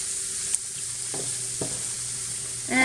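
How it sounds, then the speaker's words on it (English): Onions and celery sautéing in about three tablespoons of butter give a soft, steady sizzle, broken by a few close stirring scrapes and a brief louder burst at the end. "I'm sauteing the onions with the celery, and it was about 3 tablespoons of butter"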